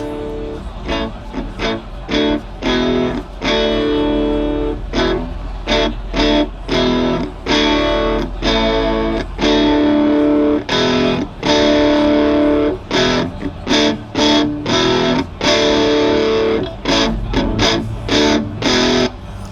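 An electric guitar played in repeated chopped chords through a Digital Performer amp simulator as the distortion is gradually turned up, loud and steady with short gaps between strums, growing grittier over time.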